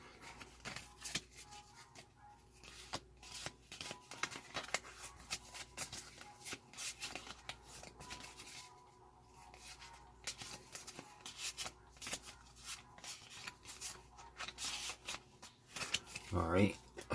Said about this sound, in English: shuffle their hand again